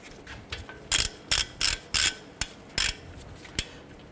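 Ratchet tightening wheel hub bolts on a 2009-2015 Honda Pilot during a front hub and bearing replacement, a run of sharp close clicking strokes in quick bursts, about eight in all, with no talking.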